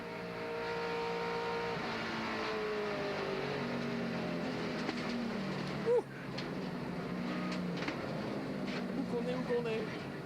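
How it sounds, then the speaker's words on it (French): NASCAR stock cars racing at Talladega in 2003, heard onboard Dale Earnhardt Jr.'s car, a loud sustained engine roar with shifting pitch and a brief sharp jolt midway. "On va revoir ça depuis la voiture de Dale Earnhardt Jr."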